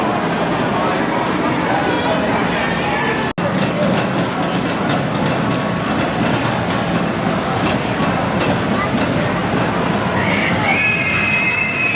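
A roller coaster train rumbles and clatters steadily along its track for a long stretch, with metallic squeals and high whines rising near the end, at Adventureland in Altoona, Iowa.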